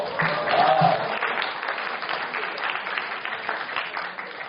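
A classroom audience of high school students at a lecture gives a short round of applause, a bright, fairly close burst of clapping that swells briefly and then thins out.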